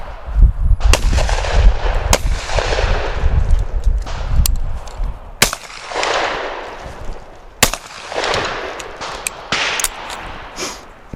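Shotgun blasts at pheasants on a hunt, several sharp loud reports spaced a second or two apart over rustling outdoor movement, with no talking.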